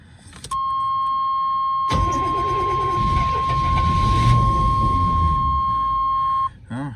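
A 1991 GMC Suburban 4x4 engine cranks and briefly catches on gas, close and loud, with a steady door-open chime ringing over it and a short burst just before it stops.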